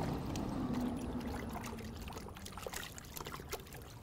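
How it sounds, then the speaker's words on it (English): A chamois being dipped into a bucket of water during car drying, with soft sloshing and trickling splashes up close, louder at first then settling into lighter drips and small splashes. "I'm going to stick it in the water and then I'm going to wring it out"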